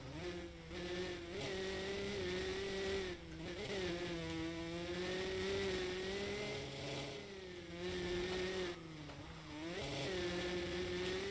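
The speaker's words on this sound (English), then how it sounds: "Man, you can hear that clutch." Two-stroke dirt bike engine in MX vs ATV Legends on a motocross track, revving steadily with rising and falling pitch as the clutch is feathered, dipping briefly between bursts of throttle, loud and continuous with no talk.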